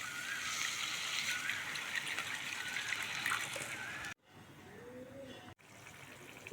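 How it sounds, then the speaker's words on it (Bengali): Hot water gushes steadily into a pan of frying spice masala for doi katla, a loud continuous pour that stops abruptly and is followed by quieter bubbling. "এবার দিয়ে দেব গরম জল।"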